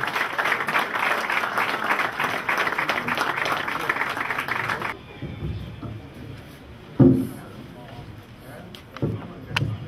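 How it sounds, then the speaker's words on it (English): A crowd at a peace advocacy gathering applauds to welcome a speaker, with dense clapping for about five seconds that then stops abruptly, leaving room noise, a few thumps and light talk. "Please a round of applause for him."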